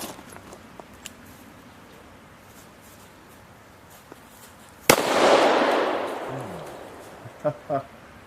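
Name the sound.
shotgun firing triple-aught buckshot at 7 yards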